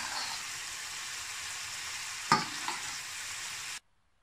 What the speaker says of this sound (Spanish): Metemos ahora nuestros entrecots y los cocinamos durante 2 minutos.